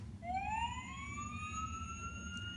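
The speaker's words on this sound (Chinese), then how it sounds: "可以听到消防车的声音。" A toy fire truck siren plays from a children's pull-tab sound book, a single electronic wail rising and holding for a couple of seconds, thin and fairly quiet over a low background hum.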